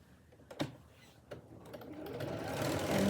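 Sewing machine stitching an apron, a few short clicks of the needle then a rising, steady run of motor whir growing louder toward the end.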